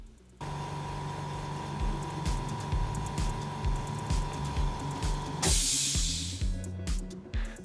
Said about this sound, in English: let me use my air compressor to remove the dust from this machine